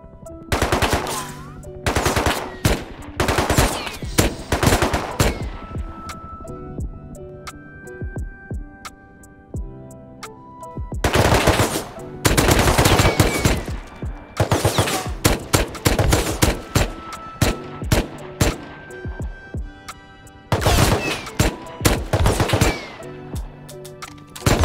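Loud bursts of rapid automatic gunfire from a first-person shooter game, coming in dense clusters with short gaps between them and no talking over the shots.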